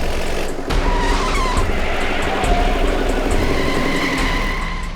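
A car speeds downhill unable to stop, its engine roaring steadily with tyre noise and a faint squealing edge, loud and continuous throughout with no voices.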